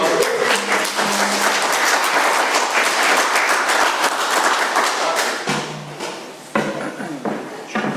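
An audience at a New Year's Eve open-mic celebration breaks into loud, sustained applause, dense clapping that thins briefly and surges again toward the end.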